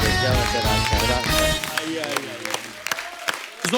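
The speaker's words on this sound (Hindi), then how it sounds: "जोरदार तालियां होनी चाहिए अशोक जी के लिए।" A studio audience on The Kapil Sharma Show claps for a guest poet. The clapping swells under voices and music at first, then continues as loose, scattered hand claps.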